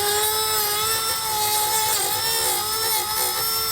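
A power tool whines loudly and steadily, close by, as it trims the bumper of a 2018 Jeep JL Wrangler to fit a base plate. The high-pitched tone stays continuous, with only slight dips in pitch. No one speaks.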